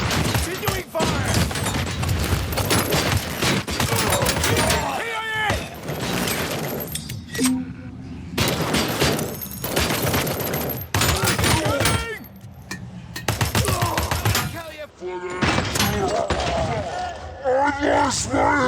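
Sustained gunfire in Robocop: Rogue City, dense bursts of automatic shots and impacts that keep firing with only brief gaps, loud and close, with shouted voices and game sounds mixed in.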